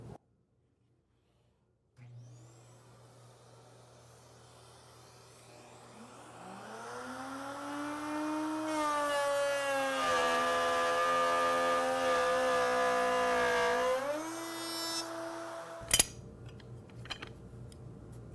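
A power saw whines up to speed, then bites into material with a louder, rougher buzz for a few seconds before spinning down.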